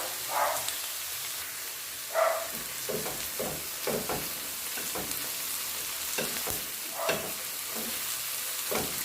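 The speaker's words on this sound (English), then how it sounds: "So after sauteing for about 2 minutes" Onion-style sauté sizzling steadily in a pan over a medium to medium-high flame for a mango chutney with pig's tail, with repeated scraping stir strokes cutting through the constant hiss, close and fairly loud.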